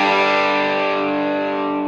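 Electric guitar played through a distortion effect with a touch of handmade reverb, a single sustained chord ringing loud and thick, then slowly decaying over about two seconds with no other sound.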